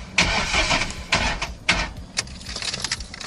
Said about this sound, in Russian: слышал, да, как стартер пытается завести